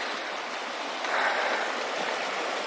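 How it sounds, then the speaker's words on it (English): Water flowing through holes in a frozen stream on a cold morning, a steady soft rushing and trickling that swells slightly midway, heard up close with no talking. "You can see some of the water flowing through there"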